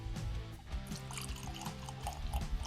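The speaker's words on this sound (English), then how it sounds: "Let me pour some of this out and let it breathe a little bit. Love that sound." Still Austin red corn bourbon whiskey is poured from a bottle into a glass, a close, continuous liquid pour with gurgling and trickling, heard alone for a few seconds.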